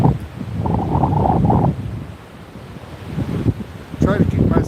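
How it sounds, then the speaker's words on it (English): Wind gusting across the open shore of Hua Hin Beach, a broad rumbling roar that swells and eases while muffled talk cuts in over it. "Try to keep myself where the wind's not blowing so bad."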